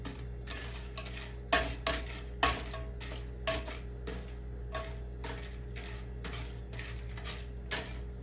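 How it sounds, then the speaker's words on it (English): Soft sizzling of macaroni frying in a pan, with a spoon scraping and stirring and a few sharp clinks against the metal. "What I'm doing right now is frying these macaronis."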